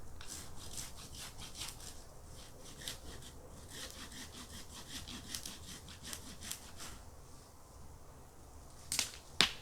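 A tree trunk being cut by hand saw outdoors while felling trees for a bushcraft camp shelter, steady rasping back-and-forth strokes in a regular rhythm, close and moderately loud, ending with a couple of sharp cracking knocks.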